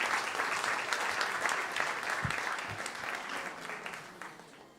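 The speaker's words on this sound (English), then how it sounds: "Huge round of applause for all of our amazing speakers" A live audience at an evening speaker event claps in sustained, dense applause that stays loud for several seconds and then slowly tapers, with a couple of low thumps partway through.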